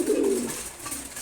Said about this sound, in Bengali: লাল চুল্লি, আমার খুবই প্রিয় একটা কবুতর